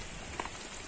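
Steady falling rain makes an even hiss throughout, with a couple of brief louder drips near the middle and no voices.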